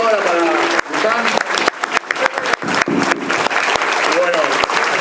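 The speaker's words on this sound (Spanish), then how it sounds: "Un fuerte aplauso para Fernando y para el Indio." An audience at a book presentation in Tandil claps loudly and continuously, a dense close applause that ebbs and swells, with a voice speaking over it.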